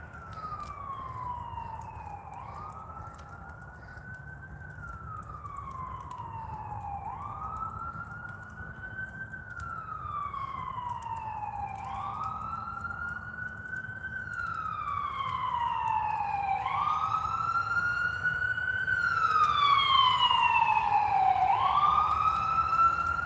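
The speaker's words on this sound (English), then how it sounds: "I can hear the sirens." Wailing sirens rise and fall in slow repeated sweeps, a second siren joining as they grow gradually louder and nearer over a low traffic rumble.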